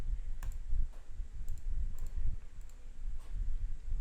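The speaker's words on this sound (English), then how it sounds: "if I click the checkbox right here, it will cross out this item" Mouse clicks on a Google Docs checkbox come as a steady run of crisp, close clicks spaced about half a second apart, with no talking.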